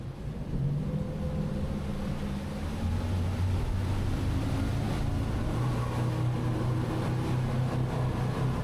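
Jeanneau TH38 catamaran pushing forward on its engines, a low steady motor drone with rushing water and wind that grows slightly stronger partway through, heard from on board with no talk.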